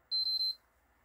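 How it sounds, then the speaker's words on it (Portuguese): A short, high electronic beep from a PS4 disc drive on eject sounds close by, three quick pulses run together, then quiet. "E eu também agora tenho o bip aqui no eject"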